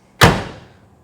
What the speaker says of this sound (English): The door is shut real nice, real good solid thump.